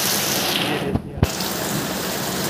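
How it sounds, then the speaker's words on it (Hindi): Rainwater pouring steadily off a house roof during a heavy storm with hail, a continuous close wash of splashing water with two brief louder splashes in the middle. "ये छत, ये जो पानी आ रहा है ये छत से आ रहा है, आप देख सकते हो, ये देखिए पानी।"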